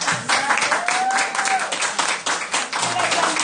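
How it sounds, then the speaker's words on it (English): A church congregation claps at a service, with uneven, overlapping hand claps and voices mixed in throughout. "Clap for Auntie"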